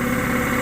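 A new air compressor runs at a steady idle in a farm barn, giving a continuous, even mechanical hum with a low engine-like drone, fairly quiet and heard alone.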